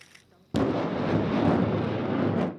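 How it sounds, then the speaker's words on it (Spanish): A sudden loud blast after a brief quiet moment as an American rocket launcher fires in a first test, followed by a sustained roaring rush that holds steady for about two seconds before easing off. "la primera prueba de disparo de este lanzacohetes estadounidense"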